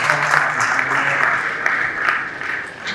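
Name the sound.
audience applause for the Oyo State governor's representative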